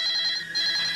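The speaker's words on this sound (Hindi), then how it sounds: "इतनी रात को हमारे वहाँ कौन फोन कर सकता है?" A telephone rings late at night in a quiet home, a steady electronic trill in two close bursts with a brief dip between, fairly loud and with no voices over it.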